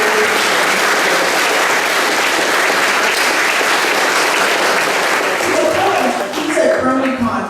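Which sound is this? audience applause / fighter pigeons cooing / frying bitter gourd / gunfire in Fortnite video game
audience applause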